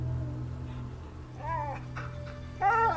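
A dog whimpers in a few short, high, wavering cries over a steady low game soundtrack in A Plague Tale: Innocence.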